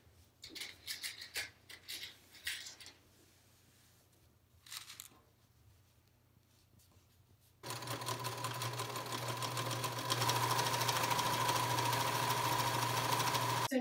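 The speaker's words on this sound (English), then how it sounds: "we're gonna pin down this, and then we will sew down it." A sewing machine stitches down a fabric strap for a yoga mat bag. Fabric rustles and brief handling noises come first, then the motor runs in a loud, steady whirring buzz through the second half.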